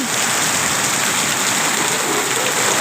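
Heavy rain pours steadily on a farm garden with trees and metal basins set out to catch the water, a dense, continuous hiss that stays loud and even throughout with no voices.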